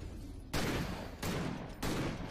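Shotgun blasts in the action game Victor Vran, three loud booming shots spaced about half a second apart, each trailing into a rumbling tail over continuous game noise.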